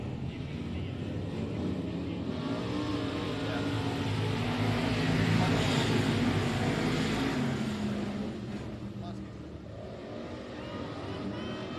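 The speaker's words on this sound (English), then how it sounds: "That car sounds like a rocket, like a helicopter down the back straightaway" A race car at Cotton Bowl Speedway roars down the back straightaway, a sustained engine drone that swells to a peak midway and then fades, with an announcer talking over it.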